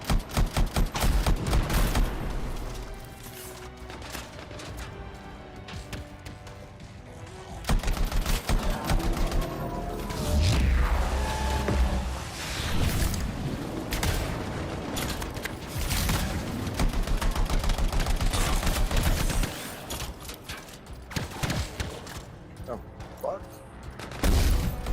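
Gunfire in the video game Anthem while shooting at a turret in a fight against bug enemies: rapid bursts of shots and impacts over game music and effects, with a voice talking.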